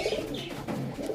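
Pigeons of the Kalpeti, Kalasabuj and Aliola breeds coo softly in a loft, a few close murmuring calls overlapping in quick succession without talk.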